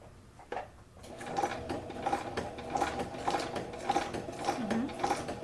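A sewing machine stitching through a paper card, a quiet, close mechanical whir with a regular clicking rhythm that starts after a brief handling knock and runs steadily to the end.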